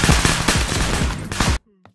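Dense bursts of rapid automatic gunfire in the Project SCP video game, loud and close, overlapping shots rattling for about a second and a half before cutting off abruptly to near silence.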